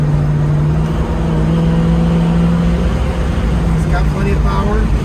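A 1967 Chevrolet Camaro SS Convertible on the move, its engine droning steadily from inside the car with a brief change in pitch as it shifts gears, over constant road and wind noise.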